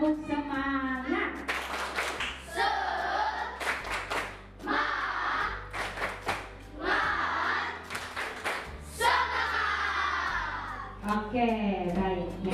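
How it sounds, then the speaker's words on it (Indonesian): A school class performs a rhythmic spirit clap, children's voices chanting in bursts punctuated by sharp, patterned group clapping at close range, with a steady low hum underneath. "Oke, tepuk semangat dulu."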